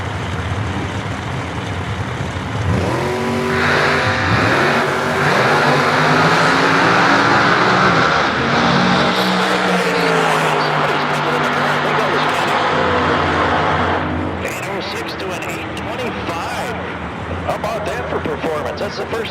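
Drag racing cars, including a Fiat funny car, make a pass at Great Lakes Dragaway, engines roaring and shifting in a loud sustained wash that fades toward the end, under an announcer's steady commentary.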